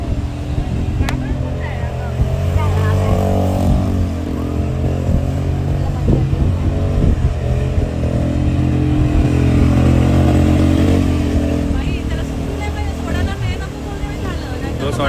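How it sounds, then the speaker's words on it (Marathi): A motorcycle ridden on a family outing near Diveagar beach, Shrivardhan, its engine droning steadily and close for the whole stretch while people talk over it. "आमचा प्रणव फ्री मध्ये गाडी फिरवतोय"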